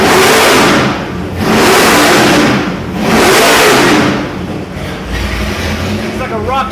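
GM 572 big-block crate engine with an Alien intake manifold revving hard three times in a row, each surge loud and close before dropping back to idle.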